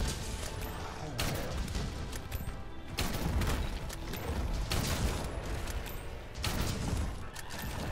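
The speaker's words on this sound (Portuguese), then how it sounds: "Tiro automático, galera, é bom por causa disso, porque economiza muito tempo" Rapid automatic light bowgun fire in Monster Hunter World Iceborne during a Rajang fight, dense bursts of shots and impacts in repeated volleys a second or two long, fairly faint with game effects layered in.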